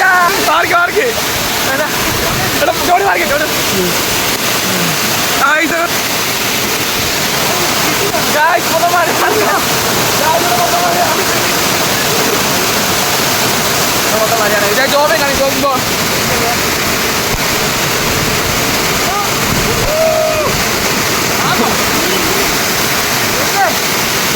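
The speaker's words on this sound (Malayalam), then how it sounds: "വെള്ളം തെറിച്ച് വെള്ളം തെറിച്ച് ഒന്നും കാണാൻ മേല" Steady roar of a waterfall splashing down, loud and continuous, with people talking and calling out over it throughout.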